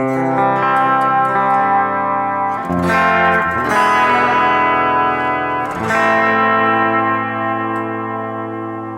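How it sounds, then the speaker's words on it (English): Sustained electric guitar chords through a Valeton GP-200's spring reverb effect ring out with a splashy, twangy reverb tail. Strummed attacks recur a few times, loud and close. "it's kind of a spring reverb, I guess, which is something I don't use usually."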